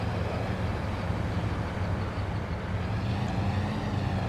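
Train in Farming Simulator 22, a steady dense rumble of rolling rail cars with low droning engine noise, continuous and moderately loud with no talk.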